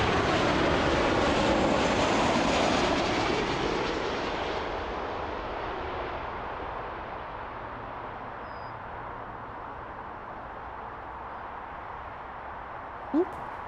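An Air Canada heavy jet takes off from runway 05 at Toronto Pearson, a loud broad engine roar that is strongest at the start and slowly fades as the aircraft climbs away. A brief sharp sound comes near the end.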